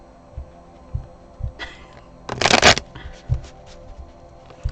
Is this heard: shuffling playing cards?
yes